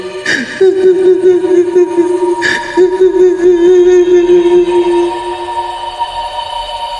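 A voice imitates soft, high-pitched sobbing, a wavering drawn-out whimper with brief catches, fading toward the end.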